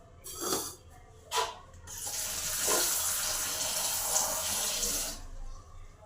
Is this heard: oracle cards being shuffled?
no